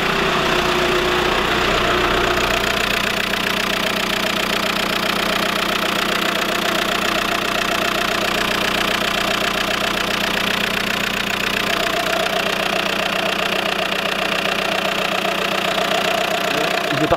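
A Volkswagen Golf engine idles steadily and loudly up close, a continuous rumbling drone with a slight mechanical knock throughout.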